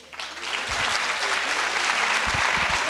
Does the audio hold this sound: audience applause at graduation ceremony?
yes